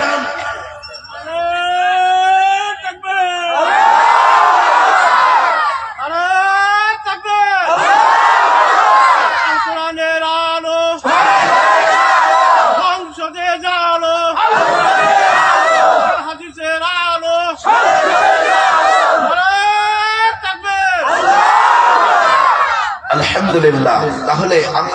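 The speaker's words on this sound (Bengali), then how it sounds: "কে আছেন একসাথে তাকবীর লাগান?" A large crowd at a Bengali Islamic tafsir gathering in Rangpur shouts takbir together in loud, repeated bursts, each rising and falling in unison with short pauses between, close and filling the space.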